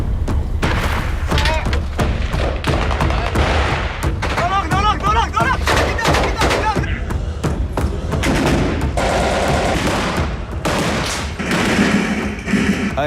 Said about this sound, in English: That's the fire we were sustaining.